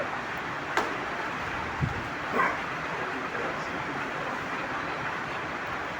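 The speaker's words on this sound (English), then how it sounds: "maybe we need to inform the security to get rid of these dogs if you don't like" Dogs bark a few times at a distance, brief yelps standing out over steady background noise near a classroom.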